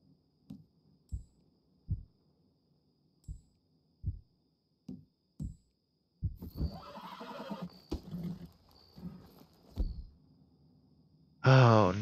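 A horse in Red Dead Redemption 2 gives a loud, drawn-out whinny, with a few soft thudding hoof or step sounds before it and a sharp loud burst at the very end.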